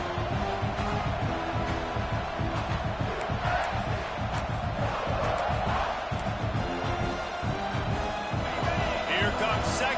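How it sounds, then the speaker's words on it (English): A large football stadium crowd at a college homecoming game roars steadily, a dense, continuous wall of cheering and yelling that holds loud throughout, with a commentator's voice faintly mixed in. "this crowd is turning it up a notch"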